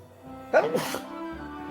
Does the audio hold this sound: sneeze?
yes